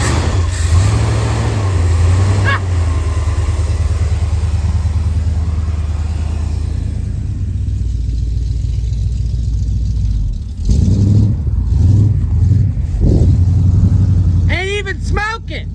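Ford 460 V8 cranks and catches, then runs with a rough, uneven rumble that surges and dips, heard close and fairly loud with brief voices near the end.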